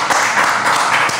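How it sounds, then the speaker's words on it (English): An audience claps together, a loud, steady wash of hand claps filling the whole moment at close range. "Make some noise, clap."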